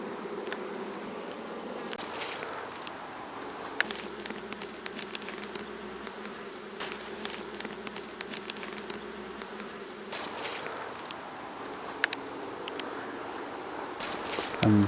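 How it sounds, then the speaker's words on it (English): Native black Irish honey bees buzz at an open hive during a honey flow, a steady close drone of many wings with occasional louder individual fly-bys and faint handling rustle. "These are the native Irish bee, the black Irish bee, and they work much better here than other bees."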